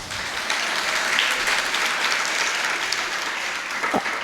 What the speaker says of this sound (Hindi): आप लोग ऐसे ही दूसरों के लिए हमेशा ताली बजाते रहोगे